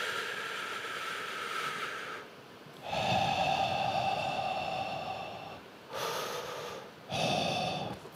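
A presenter breathes live into a microphone for a breathing sensor demonstration, with several long audible inhales and exhales, some snort-like nasal breaths, in a steady rhythm with short pauses between them.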